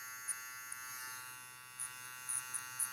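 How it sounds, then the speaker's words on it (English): Electric hair clipper trimming a skin fade line, a steady close motor buzz running throughout with a few brief sharper snips as the blade bites into hair. "and you can hear the clipper"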